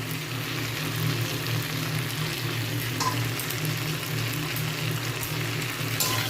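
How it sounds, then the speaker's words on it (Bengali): Drumstick pieces fry with potatoes and tomatoes in a pan, a loud, continuous sizzle with occasional stirring scrapes and crackles, heard close and alone. "এই আলুর সাথে ডাঁটাগুলোকে আবার কিছুক্ষণের জন্য ভেজে নেব।"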